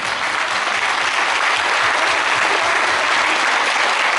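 Steady, dense audience applause at a folk music concert honouring a folk trio, many hands clapping loudly and evenly throughout with no talk over it.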